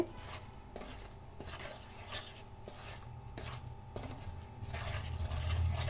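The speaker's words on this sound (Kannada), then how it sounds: "ಈ ರೀತಿ ಆಯಿಲ್ ಬಿಟ್ಕೊಳ್ಳೋ ತನಕ ನೀವು ಕಲಿಸ್ತಾನೆ ಇರಬೇಕು" Gram flour (besan) mixture for barfi is stirred in an oily pan, with soft rhythmic scraping strokes over a faint sizzle, close and quiet, with no speech.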